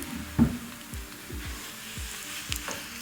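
A paratha brushed with a little oil sizzles on a hot griddle, a continuous close crackle with light, regular ticking pops and a soft knock near the start.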